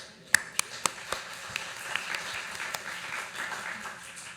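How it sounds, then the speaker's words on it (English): Scattered claps build into a soft round of applause from a congregation at an Earth Day and flower communion service, starting with a few sharp individual claps before settling into a low, steady patter. "That's a round of applause."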